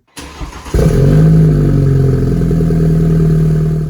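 A 2017 BMW 330i F30 fitted with an AWE Touring exhaust fires up close by: a short crank, then a loud, deep, steady idle that holds on its own.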